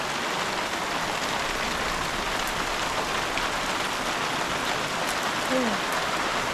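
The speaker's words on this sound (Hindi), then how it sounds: "ओले पड़ने शुरू हो गए" Hail falls at a mountain guest house near Tungnath in Uttarakhand: a dense, steady, hissing patter throughout, with a brief faint tone near the end.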